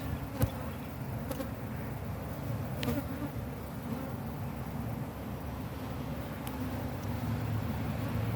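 Bees from a defensive hive buzz in a thick, steady drone close to the microphone while honey is pulled, with a few sharp clicks and knocks of hive equipment and no speech.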